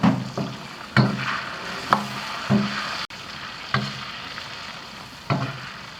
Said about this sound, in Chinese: 这一直炒，一直炸，炸出清油，还要继续炸啊！